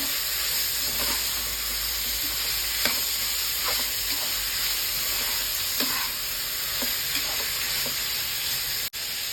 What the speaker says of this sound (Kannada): ನೀಟಾಗಿ ಮಿಕ್ಸ್ ಮಾಡ್ಕೊಳ್ಳಿ.